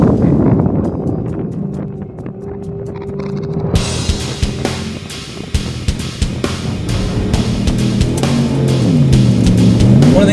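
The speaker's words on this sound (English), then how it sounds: "it's going back and forth looking for the right gear. You can hear it. You know, RPMs are just bouncing." A 2013 Ford Raptor truck engine with its transmission hunting between gears, the revs rising and falling unevenly under steady road and wind noise at close range.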